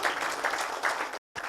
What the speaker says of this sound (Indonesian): Untuk itu tepuk tangan buat Anda